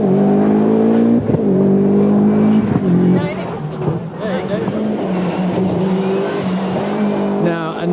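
A four-wheel-drive Opel Calibra rally car at a 1993 night rally at Achtmaal revs and drives past with a loud engine drone that shifts in pitch, heard under a commentator's voice.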